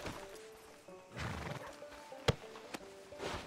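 A horse in the Red Dead Redemption 2 video game whinnies while hooves clop and thud nearby, with faint background game ambience and a couple of sharp knocks.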